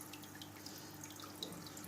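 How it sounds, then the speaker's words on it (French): Water conditioner is poured into aquarium water, giving a continuous soft trickling, splashing pour with a few faint drips, steady and close throughout. "Maintenant, on va mettre le conditionneur d'eau, donc c'est parti."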